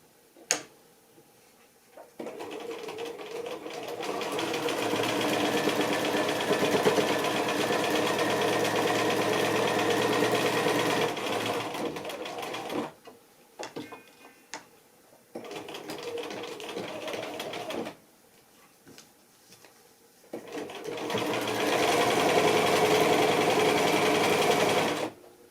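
A sewing machine stitches a quarter-inch seam in paper piecing, whirring steadily in close, sustained bursts separated by short pauses, with no talking.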